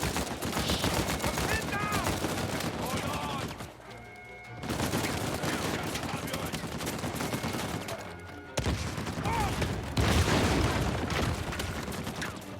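Dense, continuous gunfire from the video game Uncharted 4: A Thief's End: rapid automatic bursts and heavy shots with booms, loud and sustained, briefly pausing twice, with voices calling out amid the shooting.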